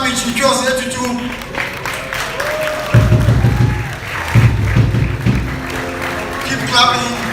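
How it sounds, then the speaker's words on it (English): Audience applause at a graduation ceremony swells in waves beneath an announcer's voice and other crowd noise, loud and close. "Keep clapping. Keep clapping."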